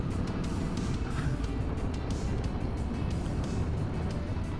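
A motorcycle riding through the White Carpathian Mountains, with steady engine drone and wind buffeting throughout, close and fairly loud, no talking.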